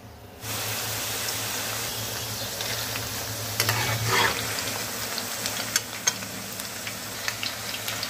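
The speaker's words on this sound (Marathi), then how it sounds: "खमंग असे हे तळून घ्यायचे।" Shankarpali pastries flavoured with garlic, chilli flakes and mint deep-frying in hot oil: a sudden onset of loud, steady bubbling sizzle, with a few sharp crackles and utensil clinks scattered through the later part, no talking.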